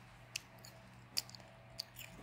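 A freshly picked raw bell pepper from a rooftop garden is bitten and chewed, giving a few sharp, crisp crunches spaced apart over quiet background, close but faint.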